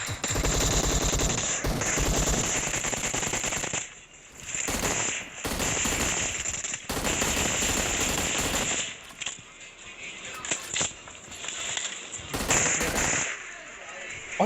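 Rapid automatic gunfire in the mobile battle-royale game PUBG Mobile, loud sustained bursts with short gaps, with some speech mixed in.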